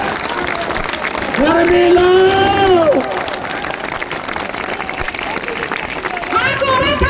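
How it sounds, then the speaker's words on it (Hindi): Crowd applause and cheering at an outdoor political rally, a steady wash of clapping under a man's loud amplified speech, with a high whistle or shout rising over the crowd early on. "ताली बजाते रहो,"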